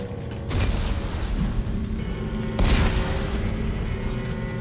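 Explosives detonating in the Dead Space 3 game: two deep booming blasts a couple of seconds apart with rumbling, creaking mechanical noise underneath, loud and without talk.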